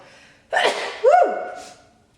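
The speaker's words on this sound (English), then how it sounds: "oh my gosh, I'm gonna sneeze, hold on." A single close sneeze with a sharp inhaled buildup and a loud burst, then quiet.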